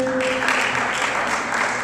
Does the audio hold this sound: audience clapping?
yes